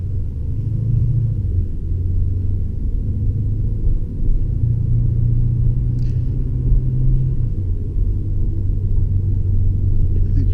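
A Lexus RC F engine heard from inside the cabin while driving: a low, steady rumbling drone whose pitch shifts in steps as the car downshifts on its own, with no talking.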